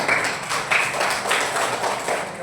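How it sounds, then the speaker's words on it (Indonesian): A classroom of students claps their hands during a religious lesson on Asmaul Husna, giving a brief run of rapid, moderately loud clapping in a few rhythmic bursts over about two seconds. "Itu tepuk tangan terhadap para Asmaul Husna."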